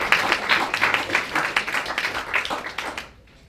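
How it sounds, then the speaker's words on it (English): An audience at a poetry reading claps in a short burst of applause, the scattered claps thinning out and stopping abruptly near the end. "You can applaud."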